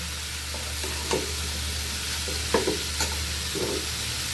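Bitter gourd and drumstick curry sautéing in a pan with a constant low sizzle, punctuated by a few distinct scraping strokes and clinks of a spatula as it is stirred.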